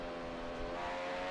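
A first-generation 1.6-litre turbo Formula One car at the Italian Grand Prix at Monza, a steady loud engine drone held for a brief moment with no voices.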